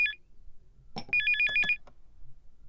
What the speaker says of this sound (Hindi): कितनी देर से फोन बज रहा है